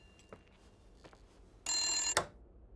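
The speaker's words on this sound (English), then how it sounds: "a random phone in the hallway starts to ring." A hallway telephone rings inside the game Rachel Foster, set in an old hotel: one loud, sharp electronic ring burst after a few faint knocks, then a cut-off clatter, with no talking.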